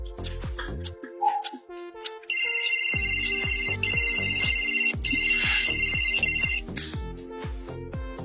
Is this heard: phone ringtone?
yes